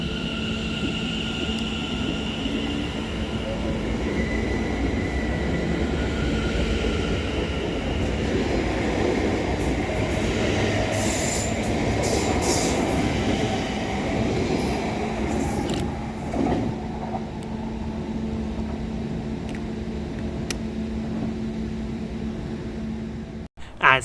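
Two London Overground Class 710 electric trains depart Seven Sisters station together, a steady rail rumble and hum lasting about fifteen seconds before fading to quieter platform ambience.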